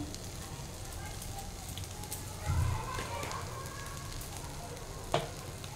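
Chapati noodles frying in a pan with oregano added, a steady sizzle with occasional stirring scrapes and a brief clatter, with a voice talking over it.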